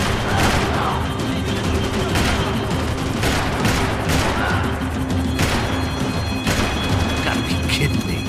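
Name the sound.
gunfire in the video game Max Payne 3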